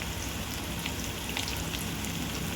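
Chopped onions fry in hot oil until golden brown, a steady dense sizzle and crackle that stays close and even throughout.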